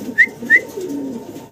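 Two short, bright calls close by from a pair of German Beauty Homer pigeons in grizzle colouring, evenly spaced over a low background murmur.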